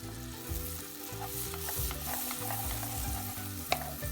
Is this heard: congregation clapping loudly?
no